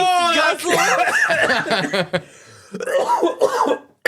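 Several harsh coughs mixed with chuckling and laughter among a few people talking in a casual podcast conversation, close and loud, followed by a brief pause and more coughing and voices.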